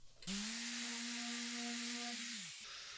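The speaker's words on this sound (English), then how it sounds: "Then gave it a quick sanding" Up close, a power tool motor whirs steadily for about two seconds on cedar wood, with a loud hissing abrasive layer over a steady hum before winding down.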